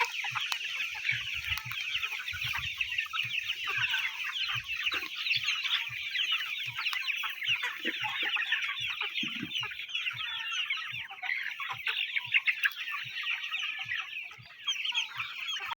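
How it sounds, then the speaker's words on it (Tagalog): A dense, continuous chorus of chicks peeping in a grow-out pen. The high chirps overlap steadily throughout, with faint low thumps underneath. "mga sisiw natin no, na pinapalabas natin doon sa ating uh, grow out pen"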